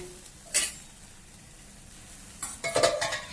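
Onion and oil being stirred in a pan: a scrape near the start, a quiet pause, then a flurry of spoon scrapes and clinks against the metal with light sizzling, close and fairly soft.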